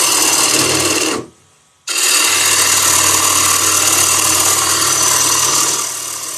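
A bowl gouge with an Ellsworth grind cuts wood on a spinning lathe, giving a loud, steady rasping hiss over the motor's hum. The cut breaks off briefly for under a second, then resumes and carries on continuously.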